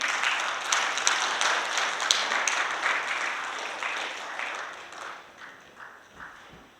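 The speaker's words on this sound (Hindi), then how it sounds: "एक बार तालियां बजाएंगे इनके लिए" Audience at a Kangen business presentation in Delhi applauds steadily, the dense clapping gradually thinning and fading to a few isolated claps near the end.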